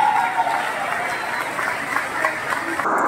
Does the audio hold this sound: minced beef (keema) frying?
no